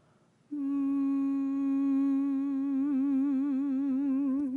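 A single steady hummed note begins after a brief pause and holds loud and even, gaining a gentle wavering vibrato toward the end.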